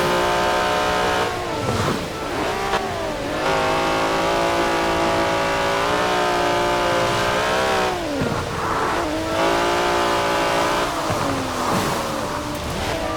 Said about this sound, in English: That's a 90-year-old racing car.